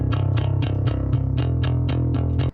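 Distorted bass guitar line in a raw black metal mix, with steady repeated plucked notes in a driving rhythm, loud and sustained, cutting off abruptly at the end.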